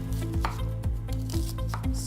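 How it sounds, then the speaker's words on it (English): Knife chopping onions into small minced pieces on a board, a steady run of close, crisp taps roughly every quarter second with a faint low hum underneath. "First, we are going to cut up our onions."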